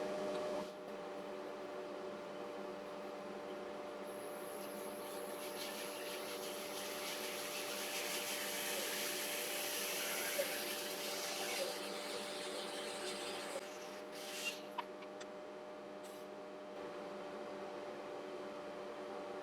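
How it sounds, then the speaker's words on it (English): A bandsaw cuts a slice off a live-edge wood blank in a woodturning shop, a steady motor whine with a rising rasp of the blade through the wood, then a few brief knocks as it finishes. "I'll take it over to the bandsaw and I'll take this off"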